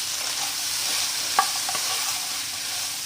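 Egg 65 mixture sautéing on a slow flame, a faint even sizzle with a few light scrapes of a spoon stirring it in the pan.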